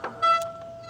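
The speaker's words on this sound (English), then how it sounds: "little squeaky brakes there." An e-bike's squeaky brakes give a short, thin, high-pitched squeal that holds steady for most of a second after a brief click, fairly close and with no voices.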